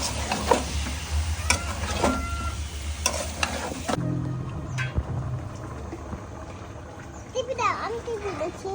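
Meat is stirred and fried in a pan, giving steady sizzling with scraping stir strokes near the mic. Voices of family members talk over it in a home kitchen.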